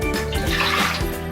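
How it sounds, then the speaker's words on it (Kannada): About a cup of water pours into a pressure cooker while tomato ketchup is being prepared at home, a short close trickling splash with a faint hum in the background. "ನೀರು ಹಾಕ್ಕೊಳ್ಬೇಕು."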